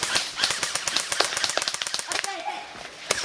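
Rapid sharp pops from airsoft guns firing during an outdoor team deathmatch, bursts of close and distant shots crackling throughout, mixed with shouting players talking over the gunfire.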